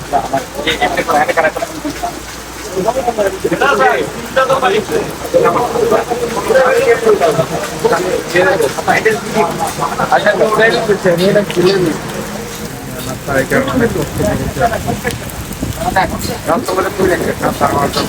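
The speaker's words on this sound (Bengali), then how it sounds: "এত সুন্দর বৃষ্টি" Heavy rain falls steadily as a loud, even wash during a road trip in northern Bangladesh, with people talking over it throughout.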